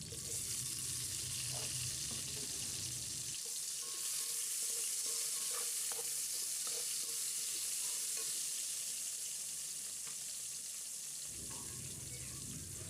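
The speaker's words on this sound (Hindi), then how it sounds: "प्याज हमारा ब्राउन हो चुका है। अब इसमें 2 से 3 अदद हम हरी मिर्च ऐड करेंगे, और साथ ही हम इसमें टमाटर भी डाल देते हैं।" Green chillies and tomatoes hit browned onions in a pan and fry, a loud steady sizzle that dips as the cold ingredients go in, with scraping stirs throughout and no voices.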